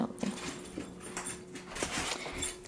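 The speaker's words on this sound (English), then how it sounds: "Who you barking at?" A dog at home gives a few short barks and whimpers, irregular and moderately close, with quiet room noise between them.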